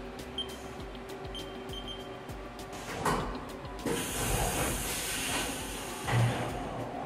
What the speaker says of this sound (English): By the time my tool comes up, the next tool is ready and it's a very fast changeover.